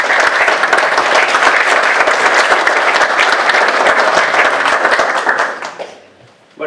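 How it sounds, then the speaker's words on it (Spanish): Audience at a round table talk on local history applauding a man seated in the corner, loud dense clapping that holds for several seconds, then fades out quickly into near silence with a brief noise at the end. "Un aplauso para él."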